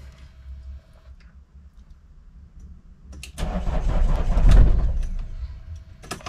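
A car engine cranks on a completely discharged battery and fails to start, a dull strained churning that swells loudly after a quiet stretch and then dies away.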